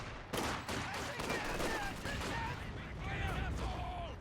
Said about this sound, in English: Oh, big hit there from the mortar.